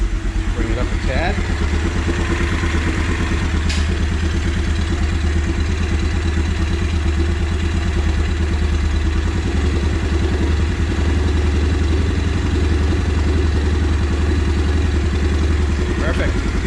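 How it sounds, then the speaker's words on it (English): A Yamaha Grizzly 350 4x4 ATV engine idles steadily with a low, rhythmic thrum and some mechanical clatter, loud and close throughout, with no talk over it. "I think the idle's just a little bit too low."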